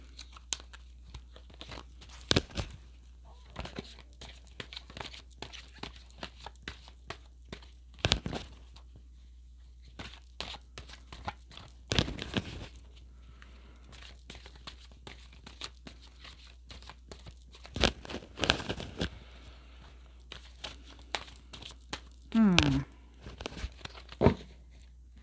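Soft papery shuffling and riffling of tarot cards in quiet bursts, with sharper crisp flicks now and then, close by.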